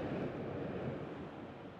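Steady wash of ocean surf rolling onto a nearby beach, a continuous broadband rush with gentle swells in level, with some wind buffeting the microphone and no voices.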